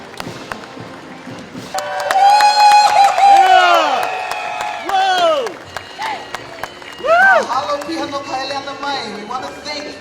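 A large crowd at a Vietnam War veterans' day parade in Hawaii applauds and cheers loudly for several seconds, with whoops and a voice rising over the clapping.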